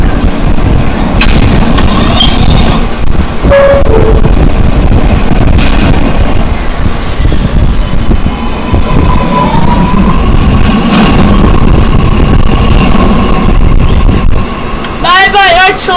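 An R211 New York subway train in the Roblox video game, its rail rumble and wheel noise running steadily under loud, continuous chatter, with a squealing pitch sweep near the end.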